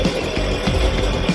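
A chainsaw runs in a classroom-style setting, a loud close buzzing roar with rhythmic pulses as it cuts, no speech over it.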